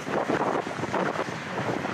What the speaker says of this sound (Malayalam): നല്ല കാറ്റാ, പൊരിഞ്ഞ കാറ്റ്, അതും നല്ല തണുത്ത കാറ്റ്.